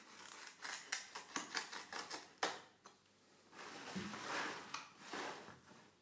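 Scissors cutting along the sides of a corn cracker sheet, a run of quick crisp snips followed by a softer, longer scraping cut, close and quiet with no talking.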